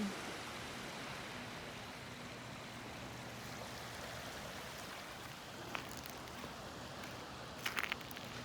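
A small stream trickles steadily near a beach, a soft continuous rushing of water throughout with a few faint clicks near the end.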